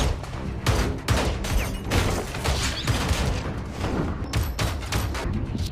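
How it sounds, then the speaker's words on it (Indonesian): Rapid gunfire rings out in a violent revenge film scene as a man is shot again to stop him escaping: dense, loud volleys of shots and booms crowd the whole stretch over a rumbling action soundtrack. "Dr. Beck kembali ditembak agar jangan melarikan diri."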